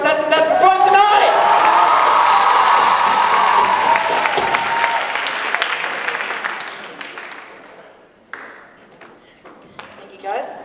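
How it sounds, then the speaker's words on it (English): Loud applause and cheering from the audience at the close of the 2023 ToKnight Show, a contestant performance night. It rings out dense and sustained at first, then fades over several seconds into scattered claps and stray crowd noise. "can we get a big round of applause for all of our contestants that's performing tonight?"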